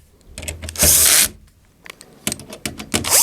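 Cordless drill with torque setting turned down, running screws into a Phoenix 300 MAX control panel: a sustained whir around one second, then several short bursts of driving with clicking pauses, close and loud.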